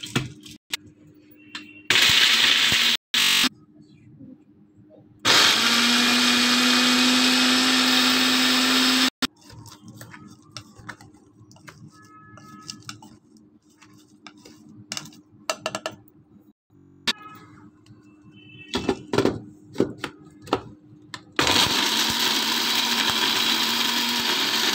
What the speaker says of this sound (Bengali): মিহি করে ব্লেন্ড করে নিতে হবে